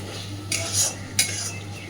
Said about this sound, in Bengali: কসুরি মেথিটা দিয়ে নাড়াচাড়া করে সুন্দরভাবে সব কিছুকে মিশিয়ে দেব